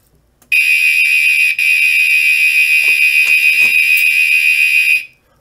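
A Notifier AFP-200 fire alarm panel sets off its horn strobes: a loud, steady electronic horn tone blares near and alone for about four and a half seconds, with a brief dip partway through before it continues and stops.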